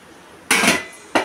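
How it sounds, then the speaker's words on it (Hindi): Spices tempered in hot oil in an iron wok while cooking Mithila-style bori, two short bursts of loud sizzling and crackling, the first longer, the second brief. "लोहियामे तेल हमरा बचल छै, एहिमे छौंक दै छै।"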